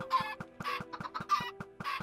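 Chicken clucking in the video game Minecraft, a series of close, clear clucks in a steady rhythm, sounding alone without any talk.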